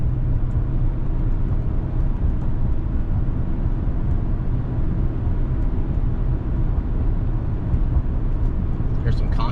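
A truck fitted with Toytec Aluma suspension and no sway bar cruises over concrete highway sections, giving a loud, steady low road and engine rumble throughout, with no clear separate joint thumps.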